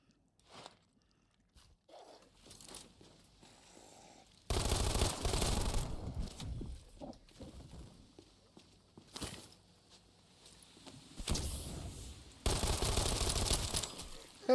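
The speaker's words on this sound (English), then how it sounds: "Oh yeah, that machine pistol," Rapid machine pistol fire in a first-person video game, loud sustained bursts of automatic shots separated by quieter stretches of footsteps and handling sounds, the longest bursts lasting about two seconds.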